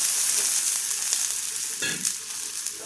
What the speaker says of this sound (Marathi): त्यावेळेस आपण तव्यावर पाणी टाकायचं